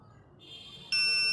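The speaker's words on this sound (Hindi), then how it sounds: "ये आवाज़ कर रहा है, इसका मतलब है कि हमारा जो फायर अलार्म है वो काम कर रहा है" A homemade fire alarm built as a science project triggers after its sensor is heated, starting with a steady high electronic tone that jumps into a loud, continuous piercing buzzer alarm partway through.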